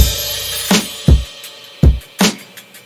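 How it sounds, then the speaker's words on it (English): Tight, dry drum hits play in a short pattern: punchy kicks and a crisp snare with quick hi-hat ticks, each cut off cleanly with no ring. "he just has these really tight sounding drums"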